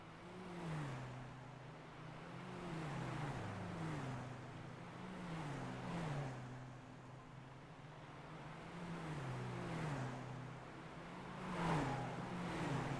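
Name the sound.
diesel race car engines passing by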